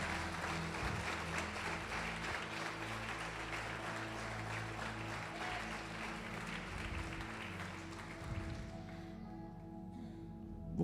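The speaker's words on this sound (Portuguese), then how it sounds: "Pode aplaudir o Senhor e glorificar" A church congregation applauds in praise during a sermon, a broad, continuous patter of clapping that is fairly distant and even, with a low hum beneath it, before fading out near the end.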